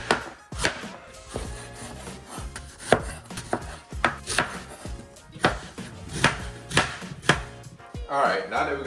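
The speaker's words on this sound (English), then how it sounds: "now that we got our apples all diced up and cut" A knife chops diced apples on a cutting board for apple cookies, with steady close thuds coming in quick irregular bursts and no talk.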